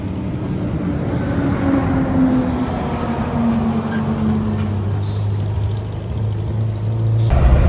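Riding inside a car on a road toward the Brazil border, a steady engine and tyre rumble carries on throughout with a faint tonal hum, growing slightly louder near the end.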